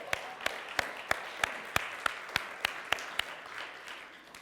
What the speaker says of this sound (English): Let us clap for that.